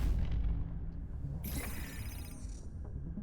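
An artillery mech fires in the Into the Breach video game. A low rumbling bed is cut by one sharp, bright blast partway through that rings briefly before fading.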